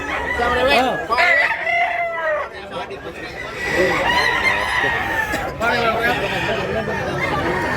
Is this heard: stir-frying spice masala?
no